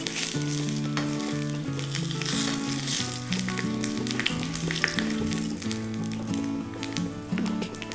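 A tempering of spices sizzling in hot oil for a radish salad, a continuous crackling fry with occasional stirring and spits, close and fairly quiet, with no voices.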